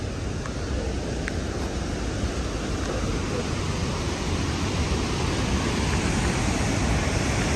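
A forest waterfall between Banff and Jasper in the Canadian Rockies gives off a steady, dense rushing roar of falling water that stays constant throughout.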